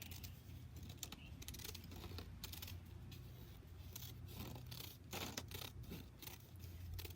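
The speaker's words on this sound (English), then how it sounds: "And I'm going to cut it off right there." Scissors cutting through paper while shaping an oval for a lobster craft, a close run of crisp snips and rustles with steady paper handling throughout.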